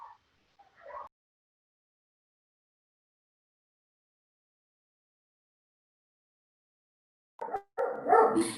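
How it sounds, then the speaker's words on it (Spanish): Neighbours' dogs in a city bark in two short bursts, a few yips at the start and a louder cluster near the end, moderately distant, with long silence between. "no tengo cómo hacer que hagan silencio los perros de los vecinos"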